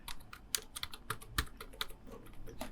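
Rapid, irregular keystrokes on a computer keyboard while working in scriptwriting software, close and clear with sharp clicks and a few heavier key presses, no voices.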